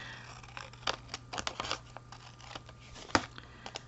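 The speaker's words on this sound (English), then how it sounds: "I'll go ahead and cut these off." Scissors snip through paper edges trimmed off a handmade card, a string of crisp, close cuts in short irregular bursts, soft and isolated without any talking.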